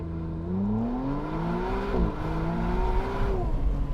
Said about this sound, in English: Launch control start, left foot on the brake, right foot on throttle, building boost.